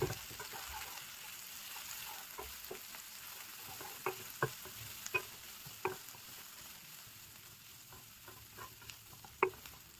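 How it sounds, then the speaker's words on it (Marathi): Cauliflower and green chillies frying in a pan, a faint steady sizzle with scattered sharp pops and spatula clicks, quiet and close with no talking. "फ्राय करून घेऊया."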